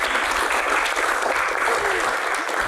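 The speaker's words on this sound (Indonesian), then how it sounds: "Tepuk tangan." A studio audience at a Q&A talk show bursts into applause, a loud, dense, continuous wash of clapping with a few voices faintly mixed in.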